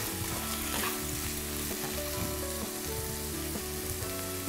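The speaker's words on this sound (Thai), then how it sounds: "เอาหมูกับตัวบุกเนี่ยค่ะผัดด้วยไฟแรงนะคะผัดกับน้ำแห้งๆเนี่ยนะคะ" Pork and konjac stir-frying over high heat with little liquid, a steady sizzle under a repeating pattern of tonal, rhythmic sounds that may be background music, continuous and moderately loud.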